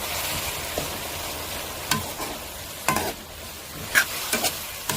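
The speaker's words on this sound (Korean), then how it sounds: "간을 먼저 해놓고 네, 당면 해가지고 볶아야 돼요" Burdock root and glass noodles are stir-fried in a pan, a soft continuous sizzle broken by sharp scraping clicks of a utensil against the pan, close up with no voices.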